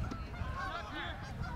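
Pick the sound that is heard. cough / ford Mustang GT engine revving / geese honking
geese honking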